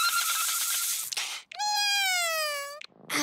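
A cat gives two clear meows, each long and drawn out with a rising-then-falling tone and a short pause between them. No talk is heard over the cat.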